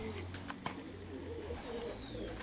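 Perm pigeons cooing close by in low, steady tones, with faint chirps and a brief wing flutter over outdoor background noise.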